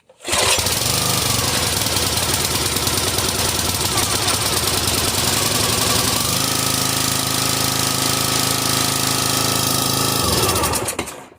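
A Briggs and Stratton XR 250cc engine on a 35-ton log splitter, with a broken choke lever and a new spark plug, roars at full throttle, loud and steady for about ten seconds before cutting off.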